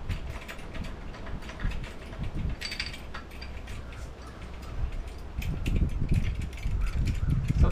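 A quick-release propeller mount on an OpenPPG SP140 electric paramotor is unscrewed by hand, giving close, fairly continuous mechanical ratcheting and threaded clicking at moderate loudness.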